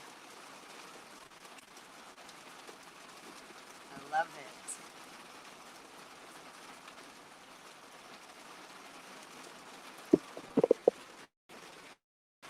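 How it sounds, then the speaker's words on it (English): Steady rain pours outside during a hailstorm under green skies, a continuous broadband hiss running throughout, briefly broken by a few clattering knocks near the end while a person talks over it. "You hear that rain?"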